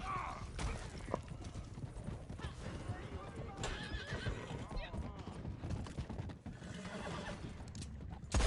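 Horse in a video game neighing with a whinny near the start while hooves clip-clop rhythmically throughout, mixed with game background sounds and occasional talk.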